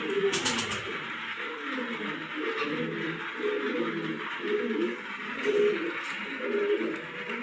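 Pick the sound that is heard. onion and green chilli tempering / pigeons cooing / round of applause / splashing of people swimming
pigeons cooing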